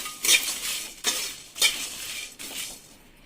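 Spices roasting in a pan over low gas, stirred in four distinct sweeps with light scraping and clinks of the spoon against the metal, fairly quiet and close.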